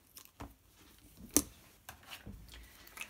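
Scissors snipping through card stock to cut a card panel in half for a handmade card, a few short crisp cuts close up with one sharp louder snip, no talking.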